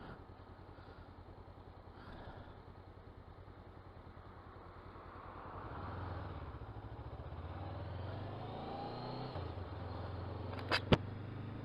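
Honda CBR motorcycle ridden on wet roads, a steady low engine drone with road and wind rumble that swells from the middle onward, ending with a couple of sharp clicks.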